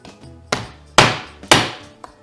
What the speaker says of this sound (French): on va couper nos os en deux, pour que ça prenne moins de place dans la casserole